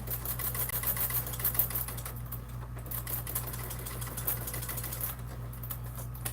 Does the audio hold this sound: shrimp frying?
no